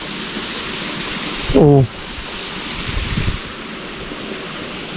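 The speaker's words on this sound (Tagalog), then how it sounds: "May falls dito." Waterfall at a bathing spot at the far end of San Miguel, Sto. Tomas, Batangas, a steady broadband rush of falling water with wind buffeting the microphone, and a brief spoken exclamation partway through.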